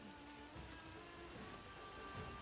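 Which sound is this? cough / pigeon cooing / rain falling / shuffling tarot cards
rain falling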